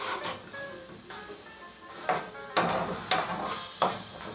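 A utensil stirs garlic and seasoning in a cooking pot, with a series of clinks and scraping knocks against the metal that grow louder and sharper toward the end.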